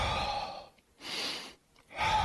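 Slow, deep breaths during an exercise class, three long airy exhales or inhales separated by short pauses, close and steady with no talking.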